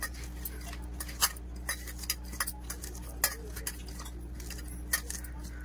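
Chopped onion, green chilli and coriander are stirred together in a bowl for an omelette, giving faint, irregular clinks of a spoon against the dish over a steady low hum.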